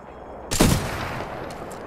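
A single sharp, loud gunshot at a firing range in the game Titanfall 2, a sudden crack followed by a short rumbling tail.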